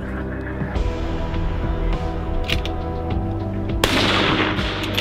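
Rifle shots at an outdoor precision rifle match, a few sharp reports rising out of steady background noise that stays loud throughout.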